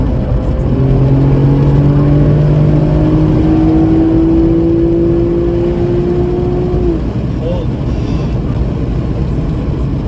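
Tuned Lexus IS engine with an RR Racing tune, accelerating hard in a loud sustained run, its pitch climbing through the gears, recorded from inside the car.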